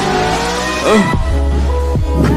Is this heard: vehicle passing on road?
yes